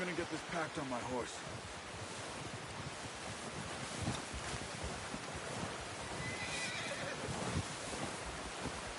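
A horse whinnies with a wavering neigh at the start, over steady wind or surf noise, with faint movement sounds afterward.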